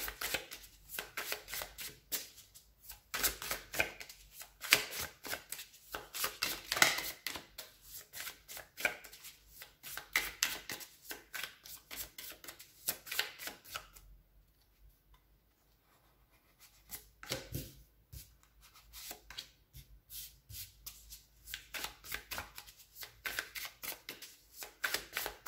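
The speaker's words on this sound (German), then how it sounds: "mische für dich jetzt die Karten." A tarot deck is shuffled by hand in long runs of soft, rapid riffling and slapping. One brief pause interrupts the shuffling before it resumes, all fairly quiet and close.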